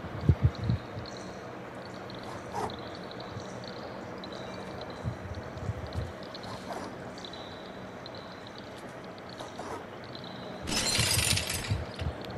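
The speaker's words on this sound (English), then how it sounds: "I need to break the glass." Glass window shattering in the video game Stray, a bright broadband crash near the end following quieter ambient game sounds and small knocks earlier.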